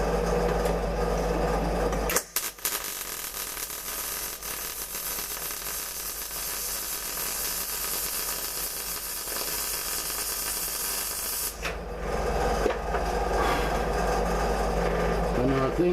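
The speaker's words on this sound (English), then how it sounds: "I'm going to do the weld when I'm pulling towards me" A welding torch laying a bead during practice, a steady loud sizzling hiss that runs unbroken for about nine seconds, framed by brief shop noise at start and end.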